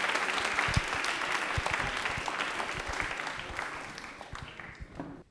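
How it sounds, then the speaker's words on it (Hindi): Studio audience applause for a quiz show contestant named Pankaj, a loud sustained crowd clapping with sharp individual claps standing out, gradually fading toward the end. "पंकज, तालियां एक बार पंकज के लिए जोरों से हो जाए भाई"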